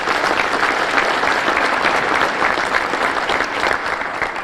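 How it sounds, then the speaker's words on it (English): Steady, full applause from an audience at a chamber of commerce luncheon, many hands clapping loudly and evenly throughout. "Please join me in giving those folks a round of applause."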